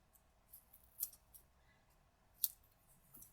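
Scissors trimming paper for a Zentangle greetings card, a few quiet, sparse snips with two sharper cuts in a near-silent room.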